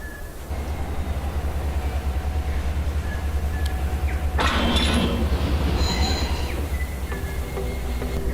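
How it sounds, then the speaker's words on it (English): CN Continental passenger train pulling away, a steady low rumble with wheel and rail noise throughout, a brief burst of brighter hissing and squealing midway, and thin squeals above the drone. "This is the CN Continental, departing now."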